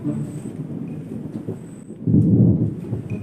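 Thunder rolls ahead of coming rain, a low rumbling swell that grows louder and heavier partway through, with no voices present.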